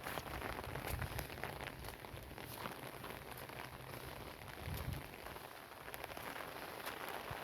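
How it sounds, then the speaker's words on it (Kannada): Heavy rain falls in cloud-covered hills, a steady dense hiss of drops drumming on surfaces close by, continuous and unbroken. "ಈಗಲೂ ಮಳೆ ಬರ್ತಾನೆ ಇದೆ."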